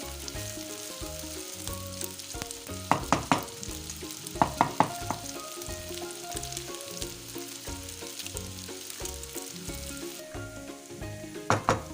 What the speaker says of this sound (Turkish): Arada sırada karıştıra karıştıra pilavımızı kavuruyoruz güzel bir şekilde.